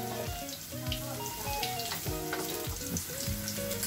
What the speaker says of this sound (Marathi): तेलात कांदा घातलाय